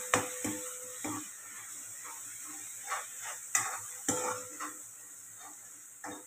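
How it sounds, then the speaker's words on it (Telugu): Ginger, garlic and coconut paste frying in a pan, a soft steady sizzle broken by several sharp scrapes and clanks of a spoon stirring against the metal. "దీన్ని మనము శుభ్రంగా వేయించుకోవాలి."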